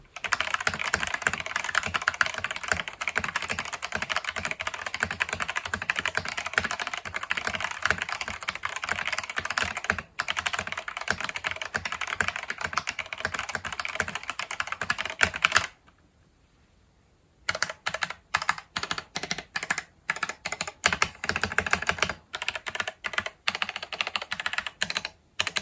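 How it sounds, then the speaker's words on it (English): Close, steady typing on an EPOMAKER EP84 mechanical keyboard with Gateron Black switches and PBT XDA-profile keycaps, a dense run of keystrokes that stops briefly and then resumes in quicker bursts. "let's do a quick type test"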